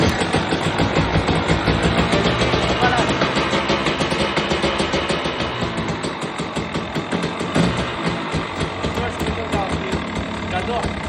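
A motorcycle engine runs close by in a steady, pulsing idle, a loud, even chugging rumble that barely changes over the whole stretch.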